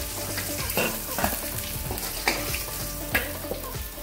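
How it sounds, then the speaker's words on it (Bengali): Pieces of fish fry in oil with a constant close sizzle. Periodic clattering stirring or turning knocks are spaced about a second apart, and nobody talks. "আমার মাছগুলো ভাজা হয়ে গেছে, তুলে নিচ্ছি।"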